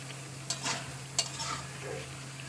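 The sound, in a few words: taro (kochu) sizzling as it is sautéed in a pan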